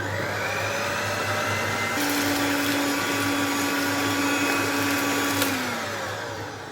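Electric hand mixer beating coconut chocolate cake batter, a steady loud motor whir that shifts to a higher-pitched drone for a few seconds before dropping back, alone with no talk.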